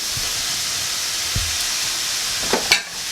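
Corn tipped into squash already sizzling in a stir-fry pan, a steady loud hiss of frying with a few soft knocks and a burst of stirring clatter near the end, no voices.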